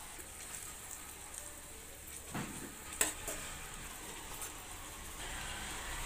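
Spices, turmeric and salt being stirred in a frying pan while making a sprouted moth bean curry, a soft continuous sizzle with faint scraping and one brief clink, no talking.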